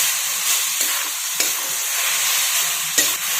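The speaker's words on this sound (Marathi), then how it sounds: "कैरीचा खीस परतत असताना याच्यामध्ये दालचिनी, विलायची आणि लवंग हे तिन्ही पण टाकून घेऊन परतून घेऊयात" Steady frying hiss with a few spoon scrapes against a pan, close up, no voices, as grated raw mango is stirred with cinnamon, cardamom and cloves.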